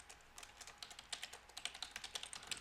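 An SQL query is typed on a computer keyboard in a quick, even run of soft, close keystrokes, about eight per second, at low level and with no talking.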